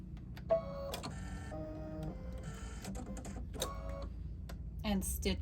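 An embroidery machine stitches a placement line, giving quick whirring, tonal bursts and clicks in short runs, with a person speaking over it.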